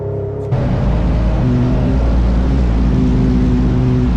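A car engine roars up suddenly and holds a loud, steady low rumble with road noise, heard from inside the vehicle.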